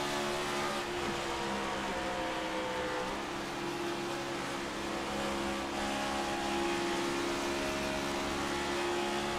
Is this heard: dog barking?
no